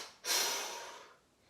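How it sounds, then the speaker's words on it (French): A single deep breath drawn sharply in and then released in a long, fading exhale during a French energizing breathing exercise, close and clear with no talking. "Prenez une grande inspiration, rétention et expirez"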